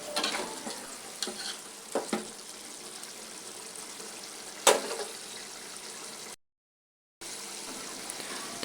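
Potatoes going into chicken curry cooking in a pot give a faint, close sizzle with a few soft knocks and clatters, briefly cut to silence near the end.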